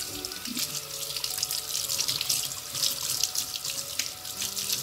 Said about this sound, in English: Wash the, you know, the whole thing nicely with like lukewarm water maybe.